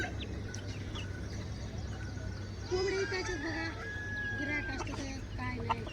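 Village chickens of a pure desi multicolour breeder flock cluck repeatedly at close range, with brief higher calls from several birds, over steady farmyard background noise.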